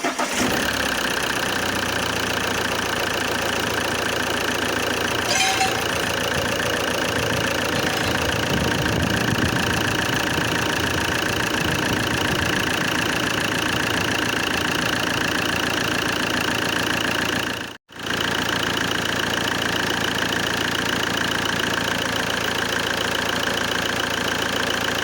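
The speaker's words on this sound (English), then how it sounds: "clearly see the difference on the sound of the engine when it's shutting off" A car engine idles steadily for a long stretch, then cuts out abruptly and briefly before the rumbling continues.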